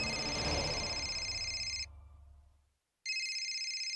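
A telephone bell rings loudly in a repeating electronic trill, cuts off for about a second, then resumes, with no voices over it.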